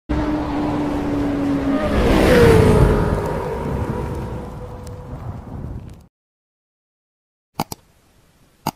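A 165cc Runner Bolt motorcycle engine runs steadily and close up for about six seconds, its revs swelling briefly near the start, then cutting off into near silence broken by two sharp clicks.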